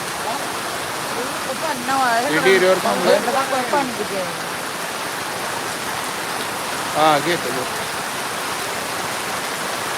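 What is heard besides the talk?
heavy rain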